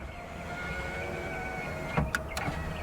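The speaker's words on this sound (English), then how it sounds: "test now if the window will go up and down" A car's electric window motor whirs steadily in a low hum after a window regulator replacement, with a couple of brief clicks or knocks near the end as it stops.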